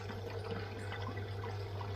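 Water pours steadily from a hose into a low koi pond to top it up, a continuous close rushing splash with a faint low hum underneath and no talking.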